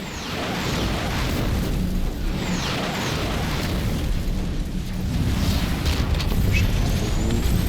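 An enemy building collapses during a Halo Wars 2 battle, with loud continuous rumbling blasts and bursts layered over dense game noise, sustained for several seconds without talking.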